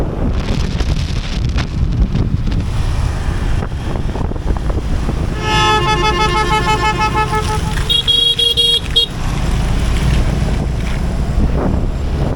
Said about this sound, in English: Back to that Da Nang traffic